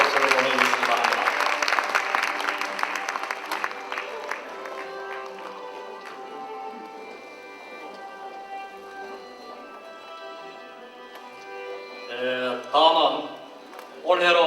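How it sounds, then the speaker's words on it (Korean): Applause from the audience at a school anniversary ceremony after lifetime achievement awards, clapping that fades under sustained music, followed near the end by a speaking voice. "공로상을 수상하신 열세분께 다시 한번 축하의 박수를 보내주시기 바랍니다."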